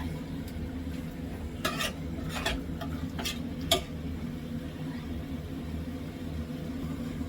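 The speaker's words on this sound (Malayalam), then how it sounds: "ഇതേപോലെ ഒരു അഞ്ചോ പത്തോ മിനിറ്റ് ഒന്ന് ഇളക്കണം" Chicken curry masala being stirred in a pan, a few sharp spoon scrapes and clinks against the metal over a low steady kitchen hum, faint and close.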